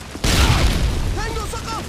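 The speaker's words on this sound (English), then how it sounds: "I'm throwing nades." A single grenade blast in a multiplayer shooter video game, a sudden loud boom with a rumbling tail, followed by faint game tones and a voice nearby.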